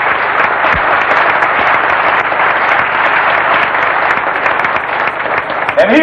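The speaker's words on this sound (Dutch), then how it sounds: "daar is het een applaus" A concert audience applauds at a 1984 Groningen show, a broad, loud and continuous wash of clapping from a large crowd, with a voice faintly audible near the end.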